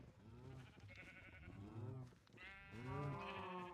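Sheep bleating in the Minecraft video game, several long wavering bleats one after another, loud and close, with no talk over them.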